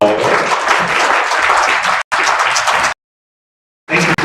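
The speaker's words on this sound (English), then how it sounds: "please give a round of applause for Professor Schwaller" A lecture audience applauds a history professor after his talk, loud continuous clapping that cuts off abruptly and resumes briefly after a short silence.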